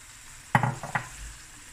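Cauliflower and dhania being stirred in a pot for a lamb chop breyani, a short burst of three or four scraping, clattering strokes close by over a faint background hiss.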